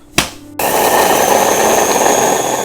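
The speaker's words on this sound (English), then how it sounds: "Let's process this." A food processor grinding whole coriander and carom seeds: a sharp clack starts it, then a loud, steady whirring roar runs close and unbroken for about two seconds before cutting off.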